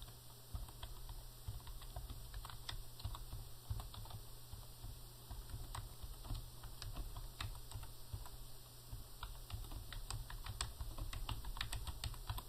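Steady rapid keystrokes on a computer keyboard, close and fairly quiet, typing out product entries in English over a low constant hum, with no talking.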